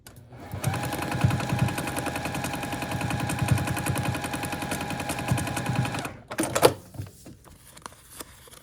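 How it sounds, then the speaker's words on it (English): A sewing machine stitching a foundation paper pieced flying geese block runs in a fast steady rattle for about six seconds, then stops, followed by a few soft clicks and handling noises. "we're gonna sew on the last line here"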